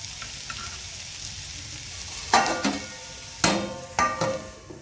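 Lauki chana dal curry with tomatoes and garam masala cooks in a pan, a soft steady sizzle broken by three sharp scraping stirs of a spoon against the pan, close and moderately loud with no talking.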